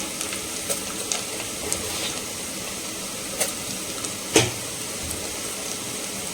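Onions fry in a pan with rock salt, a steady soft sizzle broken by a few sharp pops and clicks, one louder crackle near the end, with no talking.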